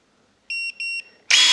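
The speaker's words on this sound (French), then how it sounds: "On appuie sur la gâchette et on attend un bip. Deux bips, pardon." Soojook SJ-935 electric pruning shears give two short clear electronic beeps close up, followed at once by a burst of motor whir.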